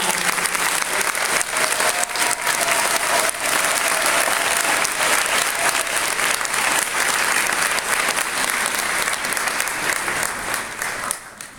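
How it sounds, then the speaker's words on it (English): Sustained loud applause from a large crowd at a sixth-grade graduation, steady clapping throughout that begins to fade at the very end. "I think we should start with a round of applause for our class of 2015"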